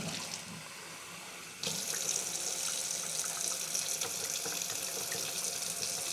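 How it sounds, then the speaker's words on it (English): Hot water runs steadily from a tap into canning jars packed with raw meat for pressure canning, a close, continuous splashing pour that grows louder and fuller partway through. "these 2 leg jars, we're just gonna fill them with hot water"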